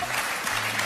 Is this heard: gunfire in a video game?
no